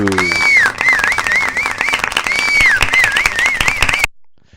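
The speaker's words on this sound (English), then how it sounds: "Everyone give a round of applause for our guest, Nahum" Applause for a guest on a podcast, a loud sound-effect style clapping track with a whistling cheer, running steadily for about four seconds before cutting off abruptly.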